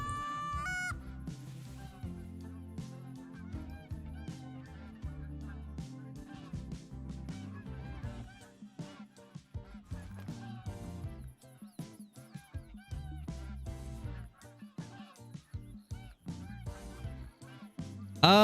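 A flock of geese honking in a hunting video game, many overlapping calls at a moderate distance in dense bursts, with a sharp louder noise at the very end.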